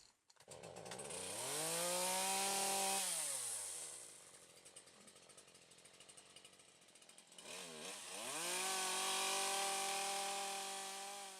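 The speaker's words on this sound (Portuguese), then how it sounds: "a minha ferramenta mais usada é a motosserra." A chainsaw pruning trees revs up to a loud sustained whine, drops to a rough idle, then roars up again, close and alone without talk.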